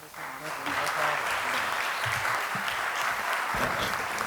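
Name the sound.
audience applause after symposium talk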